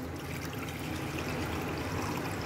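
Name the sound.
water poured off rice by tilting the container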